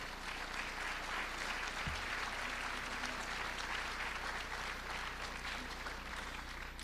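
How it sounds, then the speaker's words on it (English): An audience at a high school league music festival applauds continuously, a steady wash of many hands clapping with no pauses, heard from within the hall. "I think you deserve another round of applause as well."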